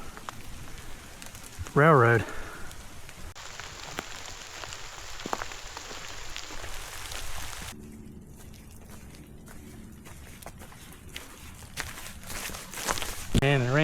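Rain patters steadily on a Florida hiking trail along with footsteps crunching underfoot as someone walks, and a voice speaks briefly over it.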